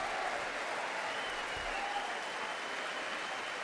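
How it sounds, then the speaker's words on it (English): Sustained applause from a large audience in the U.S. Congress during a Netanyahu speech, a steady, dense wash of many hands clapping at an even level throughout, with no break. "Applause, applause, applause, applause, applause, applause."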